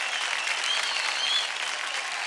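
An audience applauds dancers at a televised dance competition, with dense, steady clapping that holds evenly throughout.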